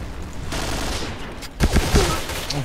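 An AUG A3 assault rifle fires in the video game Point Blank: a steady rush of game noise, then a sharp rapid burst of several loud close shots in the second half.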